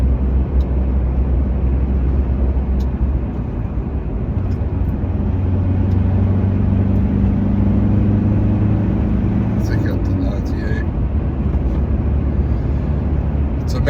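A manual-transmission car tows a trailer through the countryside at around 80 km/h, with a constant close engine and road drone whose pitch rises and then drops, as if through a gear change, plus a few faint clicks near the end.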